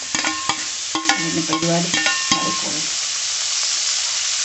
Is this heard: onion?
yes